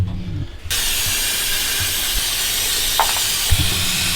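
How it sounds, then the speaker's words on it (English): A loud, continuous hiss of carburetor cleaner spraying from an aerosol onto a Kawasaki KX 125 carburetor starts abruptly after a quiet moment and keeps going, with a couple of small knocks underneath. "spray it all out, spray all this"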